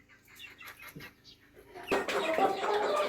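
Chickens and a young rooster cluck and murmur nearby, growing busier and louder partway through, with some scuffling and wing movement among the flock.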